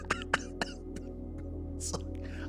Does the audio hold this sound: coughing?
yes